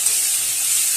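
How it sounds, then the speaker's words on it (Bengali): Onions frying in hot oil with cinnamon and cardamom, a steady bright sizzling hiss with no talk, close and fairly loud throughout the short stretch. "এইবারে আমি পেঁয়াজগুলো দিয়ে দিলাম। এবারে পেঁয়াজটাকে লাল লাল করে ভাজবো।"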